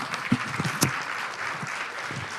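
An audience at a South African annual general meeting conference gives a round of applause, a soft, even patter of many hands with a few sharper claps standing out, moderately distant and steady.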